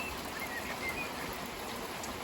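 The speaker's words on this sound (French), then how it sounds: "Et la pluie est modérée à presque forte par moment." Moderate to heavy rain pouring down outdoors on a May afternoon, a faint, even wash of hiss that stays steady from start to finish with a few soft distant chirps.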